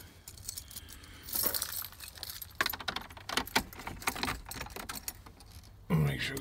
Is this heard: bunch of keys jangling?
yes